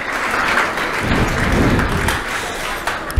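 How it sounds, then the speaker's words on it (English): Audience applause for project managers at an agility talk, a moderate burst of clapping mixed with a few thumps and shuffling footsteps as people move, fairly close and uneven. "Applause for project managers."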